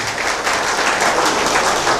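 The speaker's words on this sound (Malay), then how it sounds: "Beri tepukan kepada beliau." A crowd at a centenary event claps for an MC, a short, even burst of many hands applauding steadily throughout, close and full.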